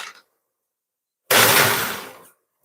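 A kitchen blender blitzing hot food under built-up steam pressure, a sudden loud burst of whirring that starts abruptly after a short silence, runs about a second, then tapers off.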